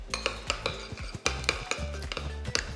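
Spoon clanking and scraping in a bowl while crab cake mixture with lemon is stirred together, producing rhythmic metallic taps and knocks close by with no talking.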